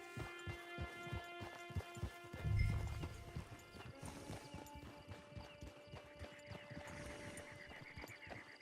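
Horse hooves clip-clop at a steady walking pace in the Red Dead Online video game, with a brief low rumble partway through and a faint whinny, over a quiet tonal game-music background.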